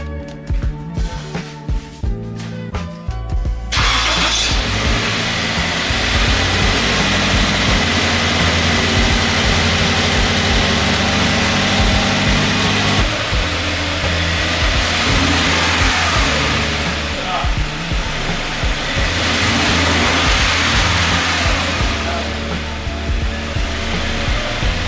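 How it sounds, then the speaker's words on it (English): A Toyota 86 engine fitted with a TRD air intake cranks and catches, then roars loudly with repeated revs rising and falling before settling into a rough idle, close up. "I guess now it's time to start the car up and try it out"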